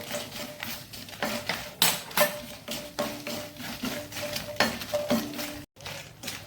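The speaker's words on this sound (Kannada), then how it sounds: "ಈಗ ಇದರಲ್ಲಿ ನಾವು ಅದೇ ಪಾತ್ರೆಯಲ್ಲಿ ಮೆಣಸನ್ನು ಹುರಿದುಕೊಳ್ಳೋಣ" Chillies dry roasting in a pan without oil for Bimbli pickle, with repeated scraping and stirring clinks of a utensil against the pan and a light crackle beneath, in an irregular rhythm.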